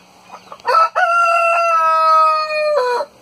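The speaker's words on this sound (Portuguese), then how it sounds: "Esse galo meu, ele canta muito." A farmyard rooster crows once, loud and close, a long tonal call lasting about two seconds after a short clucking lead-in, with a quiet background.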